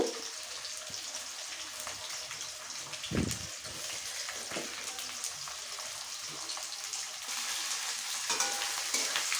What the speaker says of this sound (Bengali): এবার পেঁয়াজগুলোকে ভালো করে ভেজে নেবো